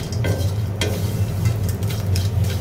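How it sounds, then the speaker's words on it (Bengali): Dried tela fish shutki fries in oil in a pan, a loud, close, continuous sizzle broken by occasional scraping stirs, with no voices. "শুটকি ভেজে নিচ্ছি"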